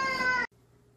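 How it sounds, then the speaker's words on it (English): A pet cat lets out one short, close meow that cuts off abruptly into near silence. "I love my kitty so much."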